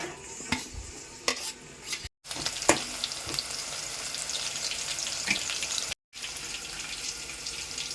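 Onions and green chillies frying in about four tablespoons of oil, a close, steady sizzle with a few sharp crackles and clinks, broken by two brief cuts.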